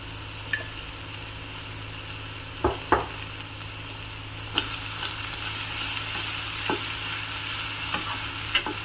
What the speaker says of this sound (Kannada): ಉಪ್ಪನ್ನು ಜೊತೆಗೆ ಹಾಕ್ಬಿಟ್ಟು ಹುರಿಯೋದ್ರಿಂದ ಚೆನ್ನಾಗಿ ಉಪ್ಪು ಹಿಡ್ಕೊಳತ್ತೆ